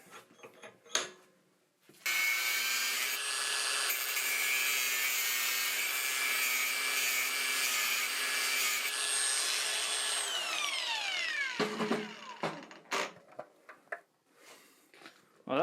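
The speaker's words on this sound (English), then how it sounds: "So I'm just going to have to bite the bullet and cut it with my grinder." Angle grinder cutting through forged steel stock held in a vise, a loud sustained whine with bright harmonics running about eight seconds, then winding down, with a few knocks and clatters before and after.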